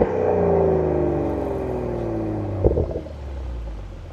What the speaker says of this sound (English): Let's do some downshifts.